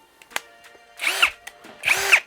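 A DEDRA cordless two-speed drill gives two short whirring bursts that spin up and wind down, with clicks and handling taps between them.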